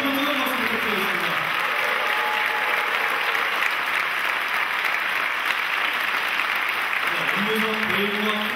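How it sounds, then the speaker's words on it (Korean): An audience gives sustained, loud applause, a dense continuous roar of clapping that holds steady for several seconds, with voices faintly audible at the start and end. "다시 한번 뜨거운 박수 부탁드리겠습니다"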